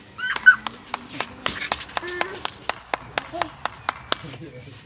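A dog yips and whimpers amid a steady series of sharp clap-like taps, with a person's voice murmuring in the background.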